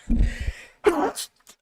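A single human sneeze lands close to the microphone: a short voiced intake, a brief pause, then a sharp burst of air with a breathy tail.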